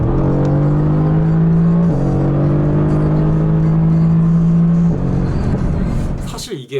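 A sports car, Ferrari or Porsche 911, accelerates hard with a loud close engine drone stepping up through gear changes, the roar cutting off near the end.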